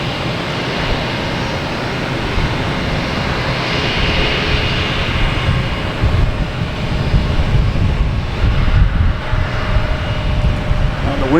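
Lufthansa airliner taxiing to runway 4 right at Boston Logan Airport, a steady loud engine rumble and hiss filling the air with wind noise, continuous and fairly close.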